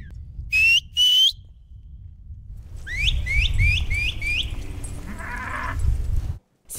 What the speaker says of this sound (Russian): обедать приходит на свист.